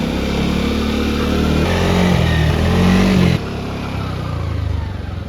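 A motorbike engine revs loud and close while being ridden to charge a dead battery, its pitch rising and falling in long pulls, then dropping to a lower, steadier drone.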